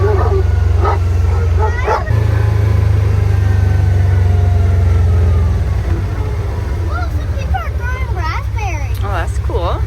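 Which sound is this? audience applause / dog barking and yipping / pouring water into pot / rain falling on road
dog barking and yipping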